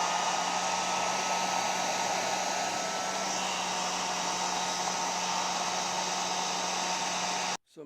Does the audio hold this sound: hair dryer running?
yes